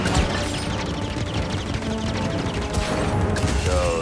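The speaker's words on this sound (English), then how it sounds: "So that fires the cannons" Continuous loud barrage of rapid blaster fire and booming cannon shots in the video game Star Wars Jedi: Fallen Order, dense and chaotic with layered explosions and mechanical whirring throughout.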